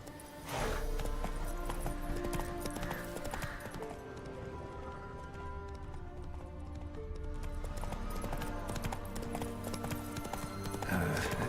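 Hooves of Roach, a horse in The Witcher 3, clip-clop steadily at a gallop, mid-loud and continuous under a busy game soundscape with faint ambient music and no speech.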